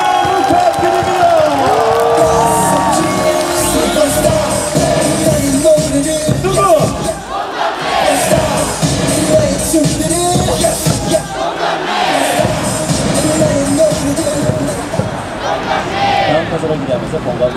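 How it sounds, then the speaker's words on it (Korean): A baseball stadium crowd at a Hanwha Eagles versus LG Twins game at Jamsil claps and cheers in a loud, dense, sustained roar with rising shouts throughout. "양팀 선수들 모두 큰 부상 없이 멋진 경기 펼쳐낸 의미로 힘찬 박수와 함성을 부탁드립니다"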